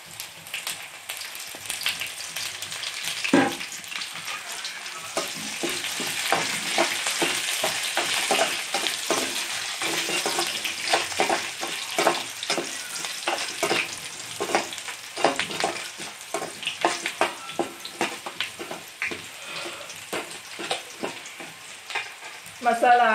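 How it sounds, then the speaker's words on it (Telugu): Onions and curry leaves fry in a pan with a steady, loud sizzle and crackle, broken by stirring scrapes throughout, with no talking. "కొంచెం ఫ్రై కావాలి ఇవి ఎర్రగడ్డలు."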